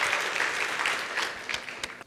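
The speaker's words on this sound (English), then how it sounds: "Give yourself a round of applause." A classroom audience in a Chinese language lesson breaks into applause, a loud burst of many hands clapping that gradually thins and fades toward the end.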